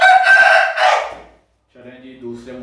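An Aseel rooster crows loudly and close by, one long strained call that breaks off into silence. Softer clucking from hens follows afterwards.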